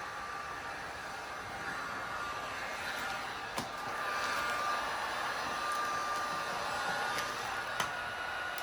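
Heat gun warming 3M Gloss Black Rose vinyl wrap on a Subaru BRZ hood, a constant airy blowing hiss with a thin whine, close and steady, broken by a couple of faint clicks.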